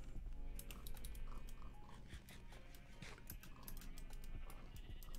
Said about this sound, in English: My sheep.